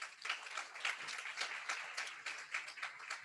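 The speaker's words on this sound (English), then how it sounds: "A round of applause for them, please." Audience applause at an evening benefit event, a steady, dense patter of many hands clapping at moderate distance, continuing evenly throughout without voices over it.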